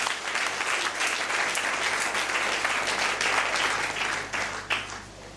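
Church congregation applauding and cheering together in sustained, dense clapping that stays loud throughout, swelling slightly near the end.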